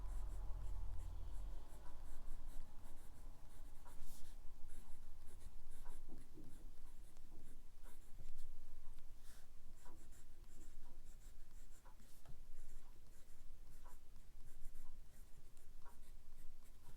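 A Platinum Plaisir Nova fountain pen with a medium steel nib writes on a paper pad, making soft, faint scratching strokes that continue close and steady throughout, with no talking.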